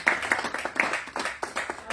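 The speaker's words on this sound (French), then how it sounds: "Acclamons très fort le Seigneur" A church congregation at a Friday evening singles' gathering claps loudly in praise, a dense irregular burst of hand claps filling two seconds, with faint voices beneath.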